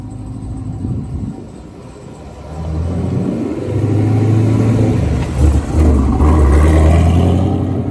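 A 2023 Chevrolet Camaro 1LE, a manual with a Texas Speed stage 3 cam, revs its engine with a loud, lumpy rumble that swells and climbs over several seconds. No one speaks.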